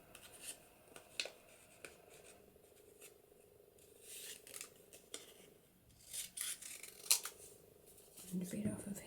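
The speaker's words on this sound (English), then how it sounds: "I'm just going to trim that down." Scissors trimming paper for a floral journal, with soft close snips and rustling paper, quiet and uneven, growing busier toward the end.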